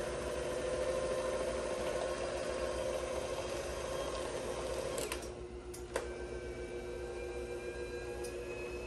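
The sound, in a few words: electric mixer running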